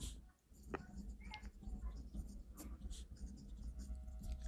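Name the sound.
pen writing on paper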